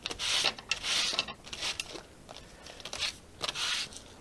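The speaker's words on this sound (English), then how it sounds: "we're just going to bring our sanding block in to just kind of rough this up" Close, scratchy rubbing strokes in repeated bursts, a rough sanding rasp against paper, with short pauses between passes.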